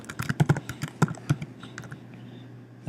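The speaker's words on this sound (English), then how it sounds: "So I'm going to type in" Close-up typing on a computer keyboard at a Mac: a quick run of crisp key clicks that thins to a few scattered taps before falling quiet.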